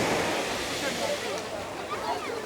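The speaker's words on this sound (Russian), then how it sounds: "А волны вроде как есть, но не такие уж они серьезные, не такие уже сильные" Gentle sea waves wash onto Cleopatra Beach in Alanya, Turkey, as a steady broadband surf hiss mixed with light wind; the waves are modest rather than strong, with no voices heard.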